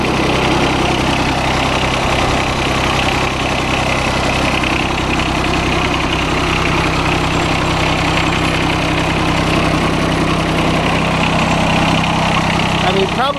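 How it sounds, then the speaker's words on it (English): A John Deere 455 lawn tractor engine idles steadily up close, a loud, even low drone with constant vibration throughout and no change in pace. "starts right up, and you heard it start up"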